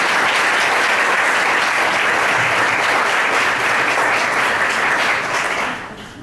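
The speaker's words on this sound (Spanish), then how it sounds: "quiero pedirles por favor un gran aplauso para él" An evening audience gives a speaker a warm welcome with loud, sustained applause, a dense and even wall of clapping that holds for about six seconds and then fades out at the end.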